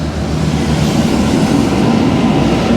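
A train passes beneath a large parking structure in Sydney, a steady, loud, broad rumble that holds evenly throughout without fading, with no voices over it.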